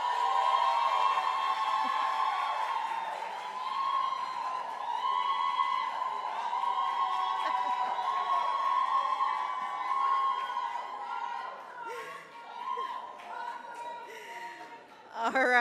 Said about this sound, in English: Please cheer on the Jamaica Tourist Board.